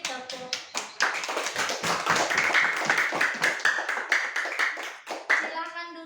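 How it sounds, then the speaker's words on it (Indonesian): A classroom of students claps for a group that has just presented, starting with a few scattered claps before swelling into brisk, rhythmic clapping close by, then tapering off. "Beri tepuk."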